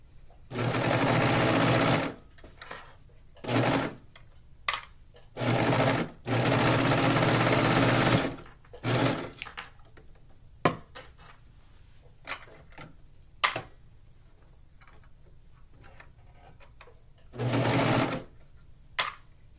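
A sewing machine stitching a tankini swimsuit runs in several loud, close bursts of steady whirring, separated by pauses filled with small clicks and handling noises.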